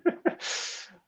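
A single sneeze with two quick sharp inhales followed by a breathy burst, close and fairly loud, alone.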